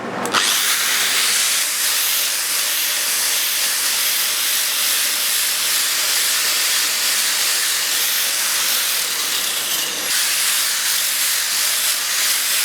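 A power sander grinds across a glassed surfboard with a steady loud hissing whir, continuous and close for the whole stretch, briefly dipping near the end before resuming.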